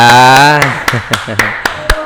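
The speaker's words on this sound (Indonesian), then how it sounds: "kita kasih tepuk tangan ya" Clapping in a children's classroom lesson: a handful of sharp, separate claps in a loose rhythm following a sustained sung or spoken tone, close and fairly loud.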